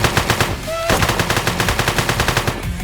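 Rapid, continuous automatic gunfire in the video game One Armed Robber, loud and rhythmic bursts filling the whole stretch with no pauses.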